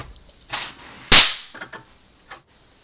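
A sharp, loud crack from an exploding capacitor discharge punches out with a bright, snapping burst, framed by softer pops and crackles before and after.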